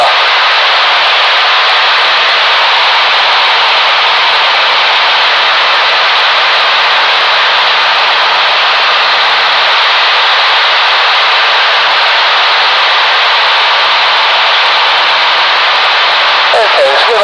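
Steady, loud engine and propeller drone inside a light training aircraft in flight, heard continuously from the cockpit and unchanging throughout.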